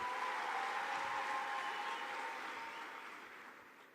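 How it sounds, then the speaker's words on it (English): Audience applause for a performer at a youth health conference, a steady broadband clapping that holds loud then slowly fades over several seconds, with no voices over it. "Another round of applause for Michael,"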